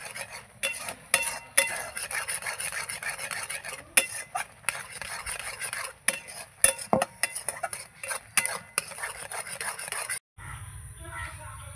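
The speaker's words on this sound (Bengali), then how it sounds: "এই যে দুধটা আমার দিয়ে আমি কিন্তু এইভাবে নাড়াতে থাকবো যতক্ষণ না একটা ভালো ক্ষীরের মতন হয়ে যায়" A spoon scrapes and stirs through milk being cooked down into khoa in a pan, with steady repeated strokes and clinks against the metal throughout, close and fairly loud, before stopping abruptly near the end.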